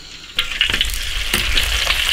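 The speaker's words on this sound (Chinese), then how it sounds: "首先打点花椒、干辣椒，" Sichuan peppercorns and dried chilies hit a wok of deep hot oil, bursting into a sudden loud sizzle that crackles and spits steadily for a couple of seconds.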